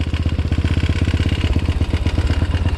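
Up close, a motorcycle idles in a rapid, even, low thumping rhythm while a learner rider pulls in the clutch and brakes, with no voices over it.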